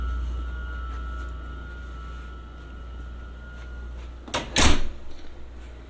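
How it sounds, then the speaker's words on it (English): A hotel room door with a magnetic stripe card lock opens, giving two sharp close clunks and a rattle near the end after a steady low hum of room noise. "And when you open the door"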